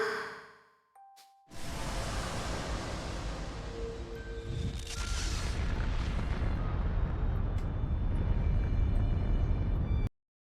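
A strong explosion in the war game Fuga: Melodies of Steel 2: a loud, sustained roaring blast of dense rumbling noise with ringing metallic tones, running several seconds before cutting off abruptly.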